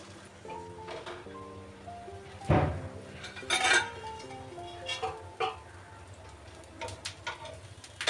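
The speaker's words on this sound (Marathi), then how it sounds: "जरा झाकण ठेवते." A lid set onto a cooking pot while preparing fasting parathas, a few sharp metallic clinks and knocks rising over a faint background hum, without speech.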